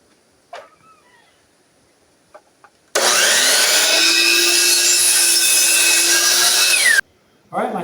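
Power saw cutting wood for DIY vinyl window frames, a loud steady whining cut lasting about four seconds that stops abruptly, framed by a few light knocks and handling sounds.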